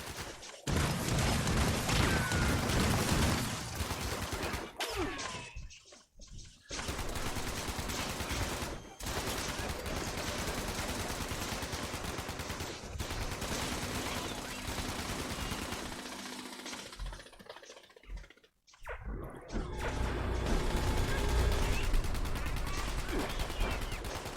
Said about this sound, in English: these aliens be shooting me in the back